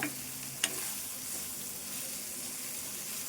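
Prawns frying in oil give a steady, close hiss of sizzling, with one sharp tap of a utensil early on and no speech.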